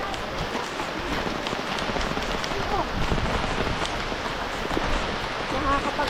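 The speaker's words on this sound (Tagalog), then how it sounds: "Oh, inabot na kami ng ulan." Heavy rain pours steadily outdoors in a farm area during coconut gathering, a dense continuous hiss drumming on surfaces, with a voice speaking briefly beneath it.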